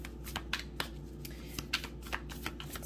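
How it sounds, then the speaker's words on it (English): Tarot cards being shuffled, a run of crisp irregular card flicks and taps at close range over a quiet background, with no talking. "So let's keep shuffling and see what else we have."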